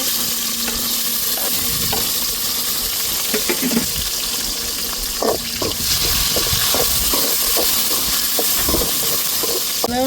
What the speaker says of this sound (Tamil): இப்போ தக்காளி மிளகாயும் அடிக்கிற வதக்கிறோம்